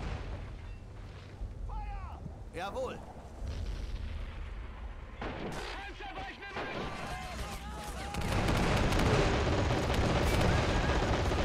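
Howitzer artillery in the WWII strategy game Men of War 2 fires amid rolling battle noise, with heavy booms and gunfire that build to a dense, loud barrage toward the end, and voices heard partway through.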